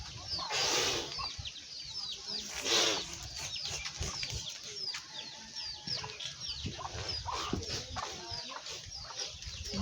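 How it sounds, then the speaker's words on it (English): Chickens cluck and squawk in an African village yard, with a few louder bursts of cackling among steady nearby clucking and no voices. "You see, this is chicken."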